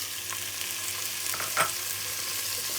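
Tomatoes hit onions already frying in a pan, giving a steady close sizzle with a few sharper crackles and a brief louder spatter midway.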